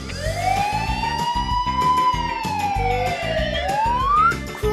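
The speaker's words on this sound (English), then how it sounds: "Police car." Cartoon police car siren wailing loudly and continuously, its pitch sweeping up and down over a bouncy, rhythmic music track.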